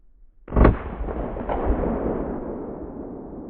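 A single sharp rifle shot from a Henry H010B Government firing Winchester ammunition, loud and close outdoors, followed by a long rolling echo that fades slowly.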